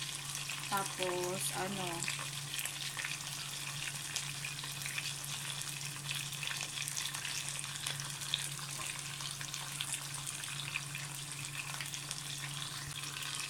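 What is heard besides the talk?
salmon frying in a non-stick pan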